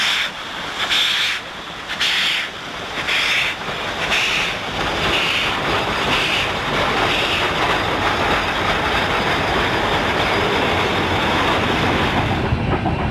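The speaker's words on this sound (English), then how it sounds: "The 19 is now leading tender first as the fan trip consist leaves Montague heading back for" A Yreka Western Railroad steam locomotive runs tender first with a fan trip train leaving Montague, giving a steady rumbling roll with rhythmic clicking and hiss that carries on close and loud without speech.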